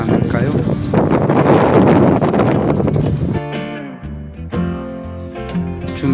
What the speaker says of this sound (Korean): 바람이 불어 춥기는 하지만